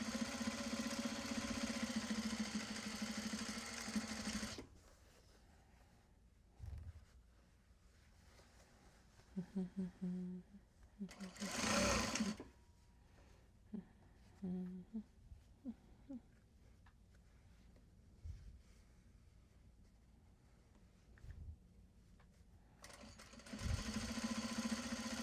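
A sewing machine stitches a drawstring for a Japanese fabric tote bag, running in a steady whir at the start and end with quieter handling sounds and brief thumps in between.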